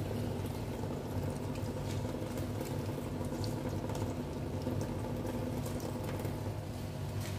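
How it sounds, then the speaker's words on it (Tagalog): A weak stream of filtered water trickles from a tap in a steady, faint patter, continuous and close with no talking. "Mahina yung tubig na yan kasi naka-filter."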